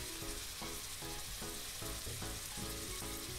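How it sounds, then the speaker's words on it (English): Cut vegetables and garlic fry in a pot with a little oil for a Coca-Cola roast beef dish, making a steady, even sizzle throughout with faint stirring and soft background music. "Now we are going to put in a pot with a little oil all the vegetables that we have cut"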